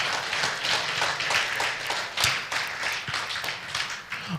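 An audience at the Termii Elevate conference claps for the team, a dense run of sharp overlapping hand claps with distinct louder smacks throughout, close and lively.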